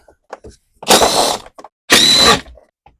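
A power driver on a Stihl BR600 leaf blower takes out T27 Torx screws: two short close whirring bursts of about half a second each, with small clicks and handling noises between them.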